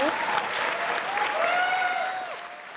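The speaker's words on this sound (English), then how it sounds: "to rapturous applause." Rapturous audience applause, a thick wash of clapping that swells early and holds before easing slightly near the end, with faint voices and cheering tones threaded through the crowd noise.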